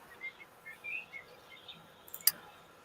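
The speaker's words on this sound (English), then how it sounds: "The bird sounds so pretty." Birds sing outdoors on a morning, scattered faint chirps and short tweets over a quiet background, ending with one sharper, brighter call.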